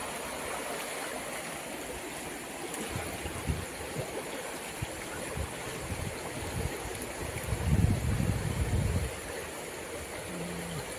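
Steady rushing of a large village river flowing beneath a bridge, fairly faint and continuous, with occasional low rumbling swells and no voices.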